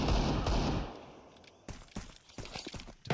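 AK rifle fire in a Counter-Strike match during a ramp fight, a dense rattling burst up front, then sharp separate shots and short bursts trailing off, fairly close and loud with no talk.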